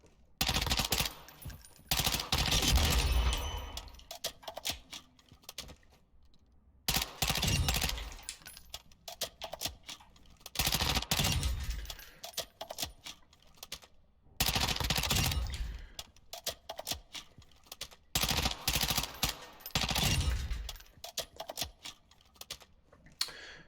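Chimera rifle gunfire at a shooting range in Modern Warfare II, with repeated bursts of rapid automatic fire separated by short pauses, loud and close, with no voices.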